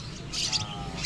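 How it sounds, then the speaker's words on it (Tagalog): Several pet birds chirp and squawk in short, bright calls close by, at moderate loudness, with low background rumble underneath and no talking. "Maraming ibon si Katedi"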